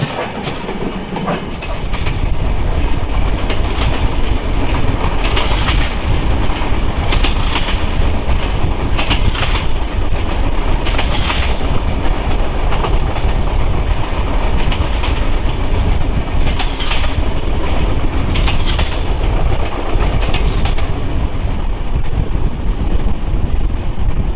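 The Ekota Express, a passenger train in Bangladesh, rolls along loudly and continuously, with a dense rumble, rhythmic clickety-clack from the wheels and rattling carriages, heard close and steady throughout.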